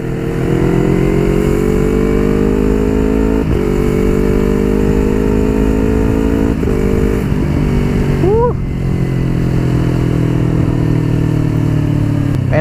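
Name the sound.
Yamaha R25 2019 motorcycle engine during test ride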